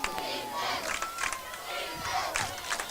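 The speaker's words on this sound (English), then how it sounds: "The defense chant in the air now from the Chanute crowd" Chanute crowd at a varsity football game chanting a defense chant, rhythmic massed voices rising and falling in repeated bursts, loud and close throughout.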